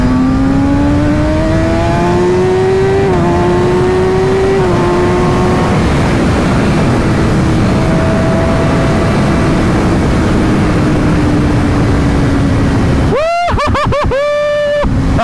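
A Kawasaki ZX6R 600-class supersport motorcycle engine, which revs to 16,000 RPM, holds a loud, high-pitched droning note that climbs in steps. It then snaps through several sharp, rapid revs near the end, with no talking.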